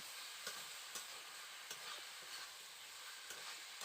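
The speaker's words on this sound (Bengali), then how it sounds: "এবার আমি মশলার সঙ্গে আলু কুঁদরিটাকে ভালো করে কষিয়ে নেব" Potato and ivy gourd stir-fried with spices in a pan, a quiet steady sizzle broken by regular spatula scrapes and knocks roughly every half second, with no talking.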